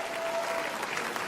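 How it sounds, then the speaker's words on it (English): Steady applause from a stand-up comedy audience fills the whole moment, a dense even patter of clapping at moderate volume with no voices on top. "Round of applause."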